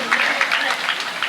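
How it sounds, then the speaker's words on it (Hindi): Audience applause at a Ram katha devotional gathering by a Ram Manas troupe, a brief burst of dense clapping from a crowd, fairly loud and close, lasting just over a second. "चलिए जोरदार तालियां बजाइए।"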